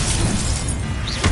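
Spell cast in Hogwarts Legacy, a single sharp crackling, shattering burst of magic, short and bright, with no voice over it.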